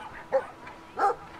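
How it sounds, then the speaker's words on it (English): A dog in the video game Brothers - A Tale of Two Sons gives two short barks about half a second apart, moderately close and with nothing else over them. "Oh, there's a massive dog there."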